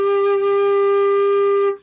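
A single low G on flute, held evenly for nearly two seconds, breathy yet clear and close, ending with a quick fade.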